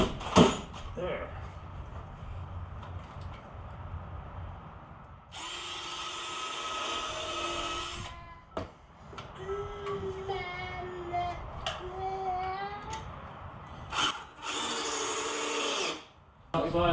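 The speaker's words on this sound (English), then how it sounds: "So I got the drill" Power drill whirring in short bursts while a top bar beehive is assembled, with several separate runs of the motor across the clip and people talking in between.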